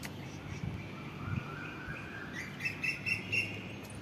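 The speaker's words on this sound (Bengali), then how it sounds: "পাখি ডাকছে দেখেছিস?" Birds call outdoors on a walk to pick flowers: a few faint, short chirps repeat toward the end, distant and soft, with a light insect-like hum in the background.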